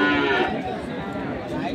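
Bulls and cattle at a livestock market near Ambari give a low, drawn-out moo, heard close over the busy market murmur while someone talks nearby.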